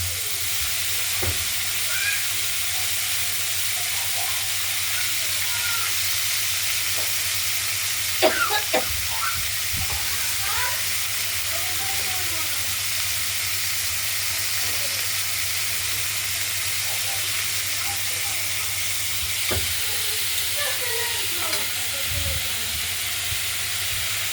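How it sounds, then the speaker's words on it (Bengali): Thin slices of pumpkin and bitter gourd fry in oil with a mustard-seed and green-chili tempering, giving a continuous close sizzle and hiss with occasional stirring scrapes and clinks. "সর্ষে আর কাঁচা লঙ্কা ফোড়ন দিয়ে কুমড়ো উচ্ছেগুলো আমরা দিয়ে দিলাম। এটার মধ্যে এইভাবে ভাজা করে নেব।"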